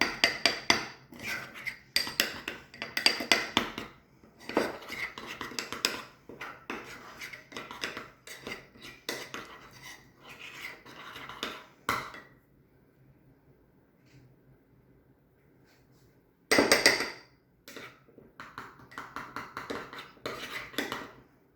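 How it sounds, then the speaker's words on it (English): A spoon stirs peanut sauce in a bowl, giving repeated clinking and scraping taps in quick bursts that pause for a few seconds before resuming, close and fairly quiet. "Okay, stir it all in."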